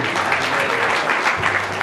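Crowd at a church gathering claps in sustained, dense applause, close and loud for the whole short stretch.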